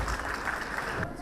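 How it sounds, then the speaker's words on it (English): Fairly faint applause from an audience at a college farewell for winners, steady clapping from many hands that drops away near the end. "A round of applause to all the winners"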